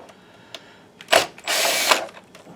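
Work on a Panasonic PT-RW330 projector casing brings short whirring bursts from a power screwdriver backing out screws, a brief spin followed by a longer sustained run, with small clicks and handling noises between them in a quiet room.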